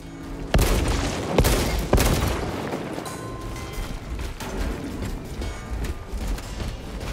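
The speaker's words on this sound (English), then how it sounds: "shoot the exploding plants on the left to get to the first data slate" Gunfire shooting exploding plants in a swamp in Space Marine 2, with three heavy booming shots in quick succession followed by a continuous rumbling battle bed and no talk.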